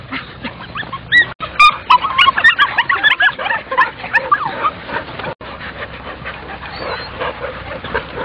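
Puppies whimper and squeal in a busy, overlapping chorus, high-pitched cries close by with soft panting in between.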